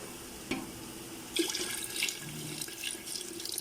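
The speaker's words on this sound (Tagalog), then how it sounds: "Ito guys, lalagyan na natin ng tubig." Water runs and splashes faintly into a cooking pot holding meat, with a few clinks of metal and soft sloshing, fairly quiet and close.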